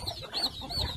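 Farm chickens on a rural Philippine homestead give a few short, faint clucks in quick succession, with a soft rustle of wings nearby.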